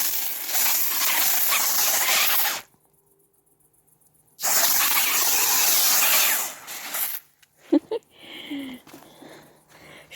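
A garden pressure sprayer hisses in two long bursts while tomato plants are treated, broken by a silent pause, then quieter handling clicks and rustles near the end.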